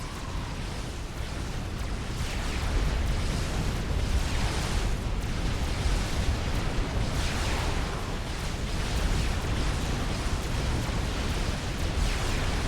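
Bombing run explosions in a Supreme Commander match, a continuous roar of overlapping rumbling blasts and bursts, loud and dense from start to finish.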